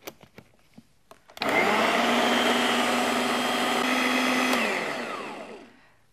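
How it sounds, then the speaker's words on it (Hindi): A kitchen blender whirs loudly for about four seconds as it purees watermelon, strawberry crush, grapes, oranges and crushed ice, after a few faint knocks, then winds down and stops. "थोड़ी सी बर्फ, क्रश्ड आइस, और इन सब चीजों को हमने ब्लेंड करना है।"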